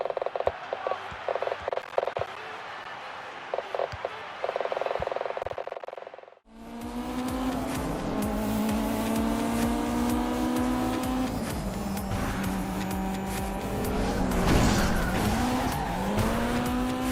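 Racing car engine from an Android video game played on an Eachlink H6 Max TV box, loud continuous revving with rising and falling pitch and tire squeals, after a brief stretch of other game audio.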